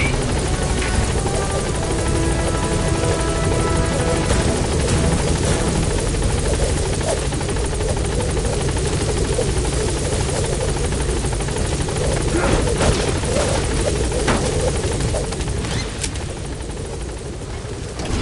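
The Pequod helicopter from the video game Metal Gear Solid 5 thumps with a steady, loud rotor drone throughout, close and constant, with radio voices and game sounds layered over it.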